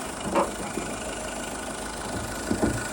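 A 2009 Skoda Fabia Mk2 estate with a naturally aspirated 1.4 MPI petrol engine idles with a steady low hum, broken by a few faint clicks and taps.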